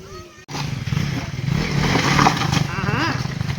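Motorcycle engine running steadily as the bike is ridden into a forest spot on a rainy Sunday ride, a low continuous rumble filling the clip after a brief cut near the start, with faint voices mixed in.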